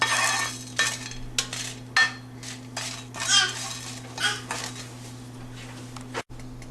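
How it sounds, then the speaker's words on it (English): Cumin and fennel seeds dry roasted in a pan without oil: repeated scraping and clinking of a spatula against the metal pan, irregular stirring strokes over a constant low hum, close by. "Sort it nicely without oil. Roast it well."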